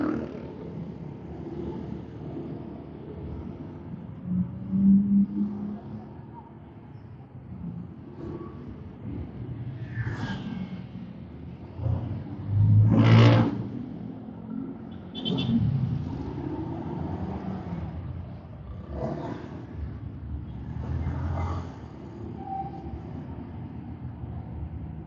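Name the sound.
Honda ADV scooter exhaust revving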